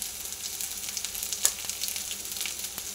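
Dry ground spices with salt, turmeric and chili powder fry in oil, a close, steady sizzling hiss with scattered crackles and one sharper pop partway through, no voices over it.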